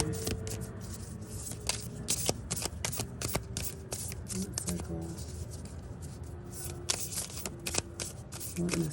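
Oracle cards are shuffled by hand, with repeated soft slaps and rustling flicks in an uneven rhythm, close by and fairly quiet.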